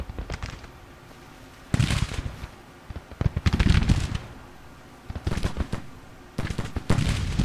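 Civil War rifle volleys crackle in Grand Tactician: The Civil War, with ragged bursts of many overlapping shots arriving in several separate waves, each a dense popping rattle that fades back into a quiet battlefield murmur between volleys.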